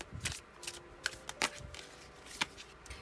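Tarot cards being shuffled by hand, a run of quick riffling bursts and sharp snapping clicks at an uneven pace, close and fairly quiet with no talking.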